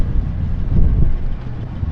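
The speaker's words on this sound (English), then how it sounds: "It is super windy out here" Strong gusty wind buffets the microphone outdoors at a truck stop, a dense low rumble that swells and eases steadily throughout, with no voices.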